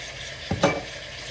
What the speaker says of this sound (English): Stirring that around. Ooh. Onions go flying.